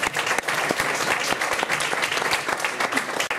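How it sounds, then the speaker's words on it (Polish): Applause from an audience at a motorsport success event honouring Sobiesław Zasada and Romuald Hałas, dense steady clapping filling the room throughout with no voices standing out. "Brawa"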